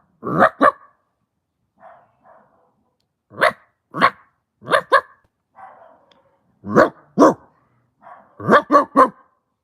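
A dog barks repeatedly outdoors at night, sharp single and double barks in irregular bursts with a few softer, more distant ones between them, loud and close with no talk over them.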